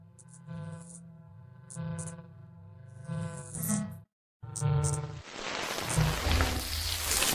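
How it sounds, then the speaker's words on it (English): Lethal Company's warning cue before an item is struck by lightning: a repeated low electric buzzing hum in short pulses, swelling and breaking off, then giving way to a hissing crackle that keeps building toward the end. "You can tell if an item is about to be struck by this sound."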